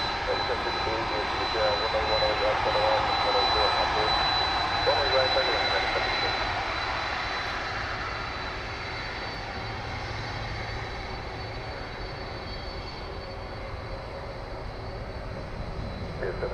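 A DHL cargo jet in yellow and red livery, ABX Flight 102 bound for Cincinnati, departs DFW Airport with a steady broad engine roar that swells early and then eases as it moves away, with voices nearby.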